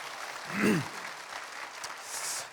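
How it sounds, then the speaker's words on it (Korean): Faint, scattered audience applause in a church during a thanksgiving special evening service, with a brief voice rising near the start and the clapping staying soft and distant throughout. "박수 쳐주신 분들 정말 감사합니다."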